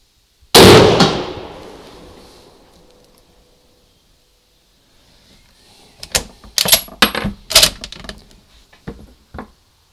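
A single loud, close SMLE MkIII* rifle shot cracks out and echoes into a long fading tail, followed after a pause by a run of sharp metallic clacks and clicks.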